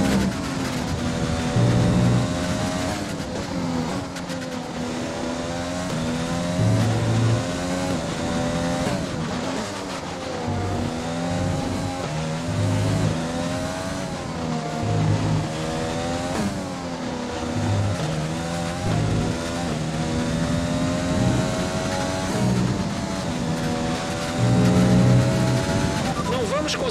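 Sustained high-revving F1 race car engine in F1 2020 at the Hungarian Grand Prix, holding a steady loud whine with rising and falling pitch sweeps through gear changes, continuous for the whole stretch with faint voice underneath.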